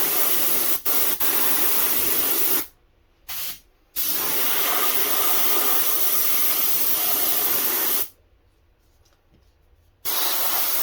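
Airbrush spraying paint over a paper template shield, heard as a loud, close, steady hiss in long bursts broken by short silent pauses.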